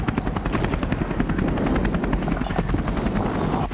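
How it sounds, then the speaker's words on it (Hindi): Apache AH-64E combat helicopter, its rotor beating in a loud, steady rapid chop with a constant engine whine, close and continuous throughout with no talk. "Helicopter Apache."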